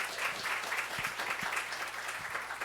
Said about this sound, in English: Please raise your hand and give a clap for Mr.